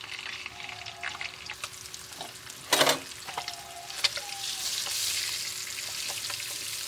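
Boiled eggs fry in a pan until golden brown for an egg korma, with a steady close sizzle, a few light clinks and one loud burst of spitting partway through, no voices.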